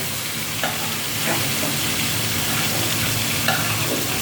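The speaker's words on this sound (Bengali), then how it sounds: "আমি একটা একটা করে এখন মাছটা দিয়ে দেবো। প্রথমে দিয়ে দিলাম মাছের মাথা" Pieces of a large fish, starting with the head, fry in hot oil in a pan: a loud, dense, continuous sizzle with a few brief pops and spatters, close by, with no voices.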